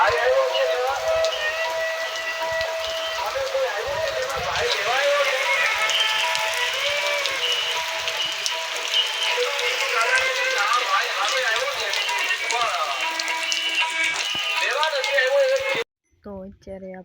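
Steady rain pours over an open farm field, a dense, even hiss that runs for most of the stretch with people talking over it, then cuts off abruptly near the end.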